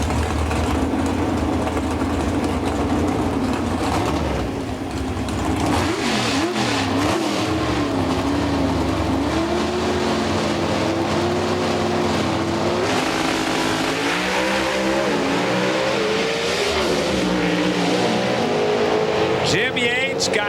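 Two Pro Stock Pontiac drag cars roar down the track at the 1998 NHRA Revell Nationals in Dallas, a loud sustained engine scream with shifting pitch, under continuous commentary.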